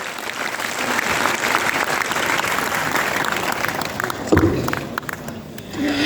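An audience claps loudly and steadily at a Hindi-language Diamond Safeshop business gathering, the dense applause filling the room throughout with a few scattered voices and cheers rising near the end.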